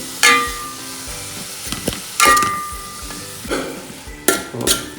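Onions frying in ghee for chicken curry are stirred with a spoon, giving repeated loud scrapes and knocks against the pan at irregular intervals over a steady sizzle.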